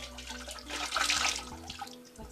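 Liquid ceramic glaze is poured over a finished mug in a pottery studio, a soft splashing rush that swells in the middle and then tapers off.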